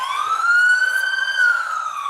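Police car siren from a motorcade of police cars and black SUVs, a loud continuous wail that rises slightly and eases back down over about two seconds, with no talking.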